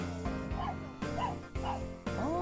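A puppy at a countryside house plot gives four or five short, sharp yaps in quick succession, close and fairly loud, with brief gaps between them and no talk.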